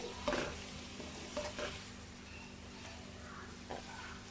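Carrots, capsicum and cabbage are stir-fried together in a pan for chicken chow mein, giving a faint, steady sizzle broken by a few soft scraping stirs near the start and middle.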